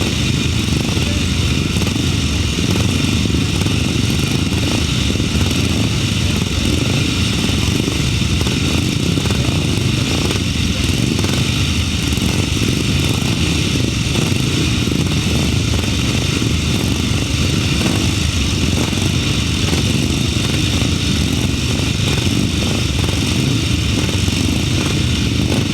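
Grasstrack motorcycles at a 2007 Ledbury race meeting roar away from the start together, a dense, steady engine drone that holds loud and unbroken for the whole stretch with a crowd-like wash beneath it.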